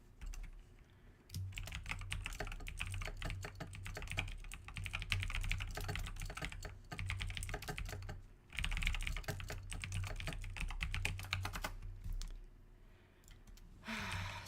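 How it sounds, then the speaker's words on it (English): Steady computer-keyboard typing while playing Neverwinter's Red Harvest as a solo cleric, a dense run of quick clicky keystrokes with brief pauses, close and fairly quiet over a low background hum. "there's a lot of typing that happens when I'm in this game"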